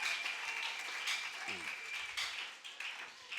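A church congregation applauds during a Sunday sermon, a steady wash of clapping filling the whole moment with a brief voice breaking through partway.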